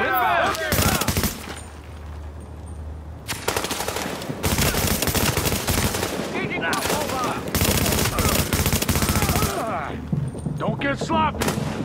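Automatic gunfire in the shooter game Tom Clancy's The Division, loud sustained bursts of rapid fire separated by short pauses, with voices speaking between the volleys.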